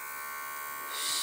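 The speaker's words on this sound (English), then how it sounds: "Get the electric shaver," An electric shaver running against a fleece jumper, a steady close buzzing drone that grows slightly louder and harsher at the end as it presses into the fabric.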